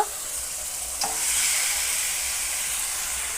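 Chicken hits a hot pan beside browned potatoes, bringing a steady, close sizzle and hiss that swells slightly after a moment and keeps crackling on its own.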